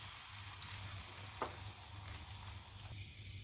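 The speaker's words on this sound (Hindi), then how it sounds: "जिस पैन में हमने रोटियां सेकी थी 2 चम्मच ही मैंने उसमें ऑयल डाल लिया है" A roti dipped in beaten egg sizzles in about two spoons of oil in a pan at home, with a steady close hiss, a few brief crackles and a soft clink near the middle.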